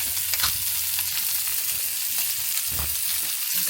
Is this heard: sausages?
yes